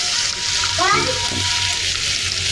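Hilsa fish, rubbed with turmeric, fries in shallow oil with a steady, hissing sizzle that fills the whole stretch, close and loud, while a voice talks briefly over it.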